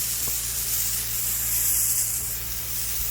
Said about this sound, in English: You always make sure you get this little bit wet here, because there is going to be overspray.